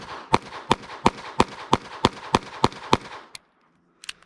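A Ruger LCP Lite pistol fires a magazine: ten sharp, close, loud shots at a steady quick rhythm, then a pause and two small metallic clicks. No talking.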